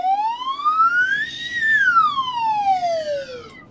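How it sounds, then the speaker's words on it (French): A slide whistle glides smoothly upward in pitch, then sweeps back down in one long continuous tone, loud and close, with no voices. "J'ai apporté ma flûte à coulisses."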